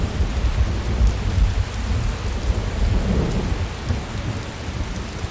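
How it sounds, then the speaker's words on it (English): Steady rain and deep, rumbling thunder fill a storm in the video game Skyrim, a low booming roll swelling over a constant hiss of falling rain. "with the thunder, because it just makes it sound really cool and bassy"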